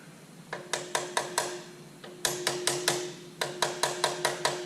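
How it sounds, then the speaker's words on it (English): Sharp metallic hammer taps on a power steering line's swivel head ring out in quick bursts of four to six, each strike leaving a short bright ring, close and fairly loud. "One way to free up that bond is take a hammer"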